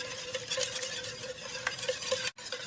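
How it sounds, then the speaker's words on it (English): A whisk beats eggs into a sauce in a fast, steady rhythm of soft clicking strokes against the bowl, close and moderately quiet, with a brief gap near the end. "Whisk, whisk until the eggs are fully incorporated, nice and smooth"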